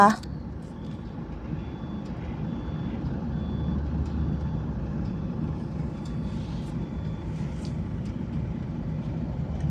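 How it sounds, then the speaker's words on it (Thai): Two trucks back up toward each other, a reversing alarm beeping repeatedly over a steady low engine rumble, with voices talking nearby. "เห็นรถสองคันนี้ไหมคะทุกคนถอยตูดใส่กันนี่ไม่ใช่อะไรนะคะ"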